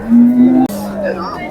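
A big cow at a Chintamani cattle market moos loudly and close by, one long low drawn-out call that breaks into a second lower tone, with market noise behind it.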